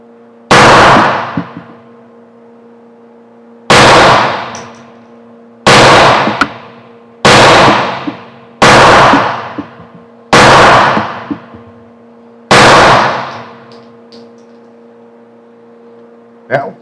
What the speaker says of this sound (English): I'm going to lay 7 shots downrange and see how well I do